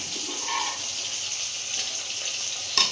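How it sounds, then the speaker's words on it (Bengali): Fish frying in a pan, a continuous close hiss of sizzling oil with faint kitchen movement and a brief clatter near the end. "আমি এখানে মাছ ভাজা বসিয়েছি"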